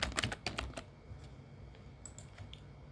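Fast computer-keyboard typing of HTML code, a quick burst of close, crisp key clicks at the start that thins into a few scattered taps in a quiet room.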